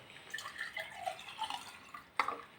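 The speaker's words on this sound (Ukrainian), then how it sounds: "Наливаю компот" Cherry compote poured into a glass, a faint trickle with soft splashing and a sharper drip near the end, close and quiet, with no talking.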